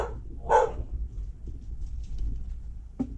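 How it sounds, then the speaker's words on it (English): A guard dog in a workshop barks twice: one loud, close bark near the start and a shorter one near the end, with quiet room noise in between. "Guard dog at work."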